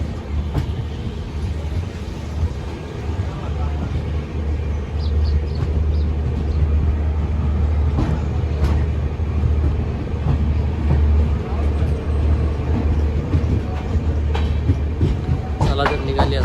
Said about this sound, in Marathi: चला तर निघाली आता आपली ट्रेन चिपळूणवरून.